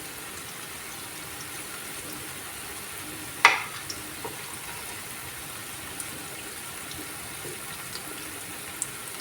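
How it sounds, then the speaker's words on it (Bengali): Jackfruit bora pitha deep-fry in oil with a faint, steady bubbling sizzle, broken once by a sharp clatter and a few small clicks. "তো আমি এখানে অল্প অল্প করে দিয়ে পিঠাগুলো সব ভেজে নিচ্ছি"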